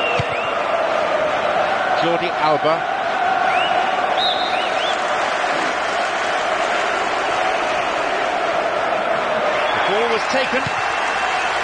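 Stadium crowd in the football game PES 2023 roars steadily throughout, a dense constant cheer and murmur beneath a commentator talking over it.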